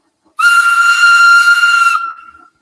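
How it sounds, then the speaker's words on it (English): A magical steam engine's whistle sounds loud and close, one sustained, harmonically rich blast of about one and a half seconds with a breathy hiss, then trailing off quickly. "That whistle! I've heard it before! It's the magical engine!"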